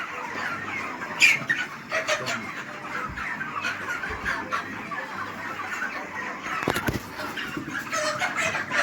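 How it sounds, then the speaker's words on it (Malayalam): Chickens clucking and squawking while being caught, with many birds calling irregularly at close to moderate distance, a few sharper cries and scuffling among them. "കോഴിപ്പിടുത്തം"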